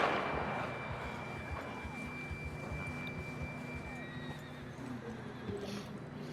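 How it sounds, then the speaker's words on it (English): A horse whinnies loudly up close in the video game Red Dead Redemption 2, then clip-clopping hooves and faint electronic tones continue under a steady background hum. "John was riding that horse when we left Blackwater"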